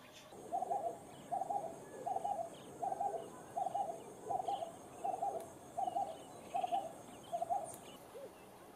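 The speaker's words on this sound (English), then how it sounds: "And red-eyed doves." A red-eyed dove calls outdoors at a lodge in the Gambia, giving a steady series of about ten evenly spaced cooing phrases at moderate distance over faint background ambience.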